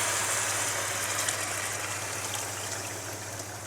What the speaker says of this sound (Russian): Вода у нас горячая. И вот так заливаем.